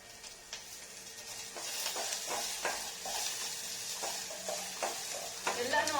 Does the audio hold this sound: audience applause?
no